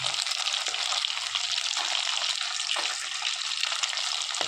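Fish frying in a pan of oil for a fish curry gives a steady, close, dense sizzle that hisses without a break, with faint stirring touches and no one talking.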